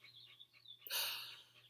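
Pet lovebirds nesting on a person's head give a few quick, thin chirps close by, then a sudden short burst of rustling noise.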